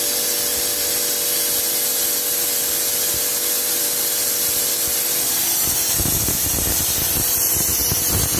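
A loud, continuous hiss of spray rushes over a replaced Daikin air conditioner condenser coil during flushing, steady throughout, with rougher rubbing and spattering joining toward the end.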